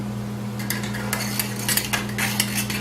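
A utensil clinks and scrapes against a bowl while keto pizza ingredients are stirred together, with irregular light taps over a steady low electrical hum.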